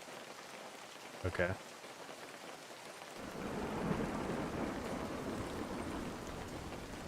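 Rain in the video game Lured sets in as a dense, steady hiss that swells and continues to the end, after a short burst of a voice and a quiet stretch.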